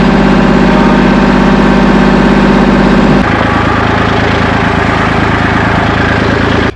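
A tractor engine idles steadily and loudly nearby at a concrete demolition site, its rumble dropping to a lower, rougher throb partway through and running on without any voices.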